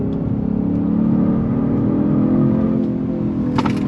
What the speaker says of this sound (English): it holds the rev range right in the sweet spot in Sport Plus mode